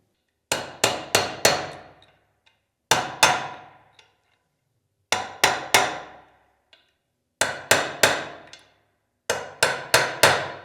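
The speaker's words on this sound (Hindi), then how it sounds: "आप थोड़ी सी टैपिंग है वो हैवी कर सकते हैं और उसको ऑल द वे ड्राइव कर सकते हैं" Hammer tapping an Activa scooter gearbox down into its slot: loud, close metallic taps in quick clusters of two to four strikes, each ringing briefly, separated by short silent pauses.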